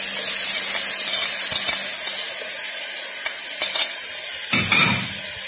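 Onions dropped into a hot pan for a meat and vegetable tagine, sizzling steadily with bright frying hiss, while a utensil scrapes and clinks against the pan as they are stirred.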